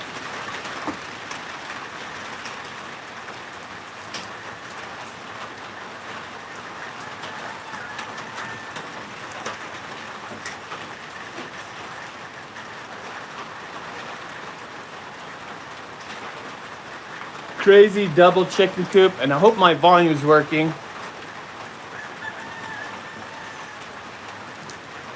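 Rain falls on a porch roof beside a shop and chicken coop as a soft, steady patter throughout, briefly under a man's nearby speech.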